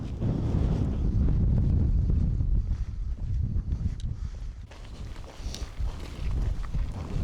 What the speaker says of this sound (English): The wind's in my face, so it's going to be a little bit of a pull.